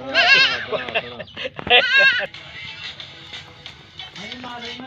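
Cross-breed goat that has just given birth to two kids bleats loudly several times in close succession, with voices talking alongside and continuing after the calls.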